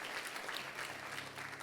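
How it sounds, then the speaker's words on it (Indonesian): Distant congregation applause at a church service, a soft, even crackle of many hands clapping that is faint and continuous, with no voices over it. "Tepuk tangannya pula yang paling meriah buat Tuhan."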